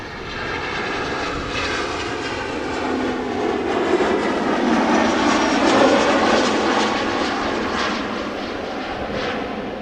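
An Embraer 190 jet arrives at Amsterdam Schiphol, its engines producing a steady broad roar with a rising whine that swells slightly toward the middle as it passes, moderately loud and alone.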